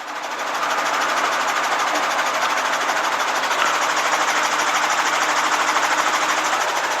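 An aircraft engine drones steadily before takeoff, a loud, even mechanical hum with a fast pulsing texture that holds throughout the clip.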